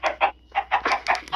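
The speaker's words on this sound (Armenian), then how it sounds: "այստեղ հավերն են" Chickens in an animal enclosure cluck in a quick, close series of short, choppy calls, fairly quiet and without talking.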